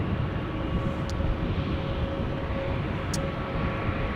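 Twin Jet airliner at Amsterdam Schiphol Airport, heard as a steady, broad jet roar that holds at an even level throughout, with two brief faint high clicks and no voices.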